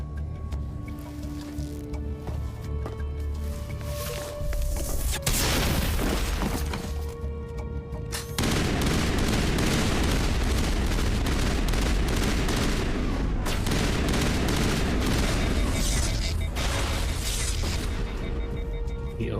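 Gunfire in Mass Effect, with dense rattling shots and impacts over a steady loud battle din. Tonal game music runs through the first half, then a sharp shift at about eight seconds into sustained heavy firing.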